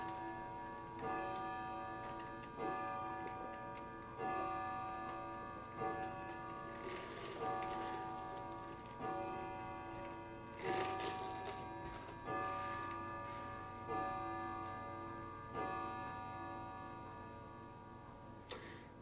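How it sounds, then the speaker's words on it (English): A clock chimes midnight with a slow, even series of resonant strokes, each ringing out before the next. A soft ticking runs steadily beneath, and no one speaks. "I think it's the 12 o'clock midnight chimes."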